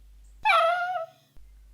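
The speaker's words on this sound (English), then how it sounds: "Prince, you hear the sound of a whimpering dog." A dog whimper sound effect played during a tabletop role-playing game session: one drawn-out, high, whining cry of about a second, heard alone and fairly loud against a quiet background.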